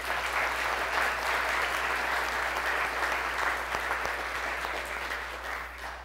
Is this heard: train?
no